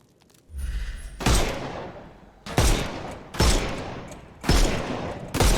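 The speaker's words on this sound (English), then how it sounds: "Shoot off their armor." Gunfire in a Sherlock Holmes video game as enemies' armor is shot off: four heavy, booming shots spaced about a second apart, each with a long decaying tail, loud and close with no talking.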